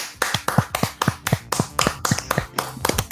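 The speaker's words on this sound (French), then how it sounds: "Je pense que ça mérite une bonne main d'applaudissements." Hand claps ring out in a fairly steady rhythm of about a dozen sharp strikes, close and distinct, like one or a few people clapping on a podcast set, with no talk over them.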